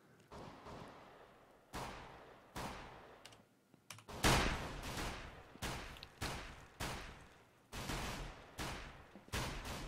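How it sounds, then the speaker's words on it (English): Bursts of gunfire from Counter-Strike: Global Offensive play in a competitive match, sharp cracks and short volleys repeating every second or so, some louder and closer, with faint background clatter between shots. "They are actual people shooting over there in Banana."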